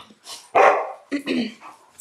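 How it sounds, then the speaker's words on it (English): Several house dogs bark excitedly when someone arrives home, with loud, close, overlapping barks in quick bursts and a faint voice mixed in among them. "the dogs are freaking out."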